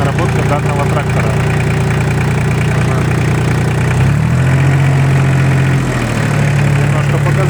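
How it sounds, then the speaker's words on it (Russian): An ISEKI TL2500 mini tractor engine idles evenly with a steady, close diesel chug that dips briefly in pitch midway, while a person talks over it. "Двигатель работает ровно"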